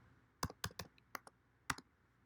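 Someone types on a computer keyboard in a quiet room, with about six sharp key clicks in short irregular bursts, close and fairly soft.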